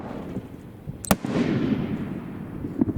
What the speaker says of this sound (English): The first one is a gold titanium willow with blue with blue pistol